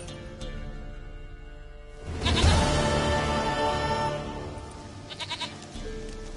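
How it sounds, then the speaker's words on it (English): A goat bleats in The Witcher 3, a loud wavering cry rising after a quiet start with soft ambient game sounds, followed by a few short bleats near the end. "Goat of mine, dearest, sweetest goat."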